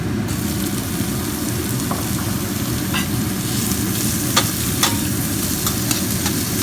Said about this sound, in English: Also saute the onion till it become transparent.